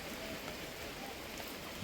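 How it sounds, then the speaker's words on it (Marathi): Rain falls steadily around a tree in the Hadshi countryside near Pune, an even wash of hissing patter at a moderate, unbroken level with no voices. "एकदम पाऊस चालू झाला आहे"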